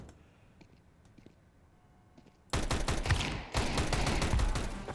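Gunfire in the Counter-Strike 2 game, starting after a quiet stretch with a few faint ticks, then a loud, dense burst of rapid shots that pauses briefly and resumes for the rest of the clip.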